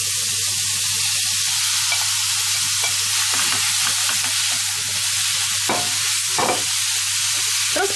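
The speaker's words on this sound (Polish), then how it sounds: "Można smażyć, o właśnie powinno tak zaskwierczeć" Loud, steady sizzling of chicken meat for gyros frying in a hot pan, a continuous crackling hiss with occasional scrapes from stirring.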